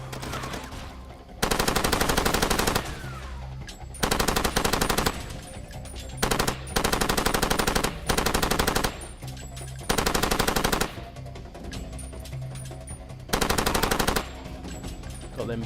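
A vehicle-mounted turret machine gun rattles in the video game Far Cry 2 at an enemy outpost, loud sustained bursts of rapid fire repeating every second or two over steady engine and combat noise.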